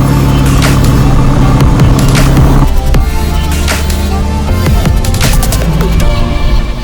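A Renault Megane R.S. 280 Cup hatchback being driven on a winding road: steady loud engine drone with the pitch shifting as the car works through the gears, road and wind noise throughout, no talk.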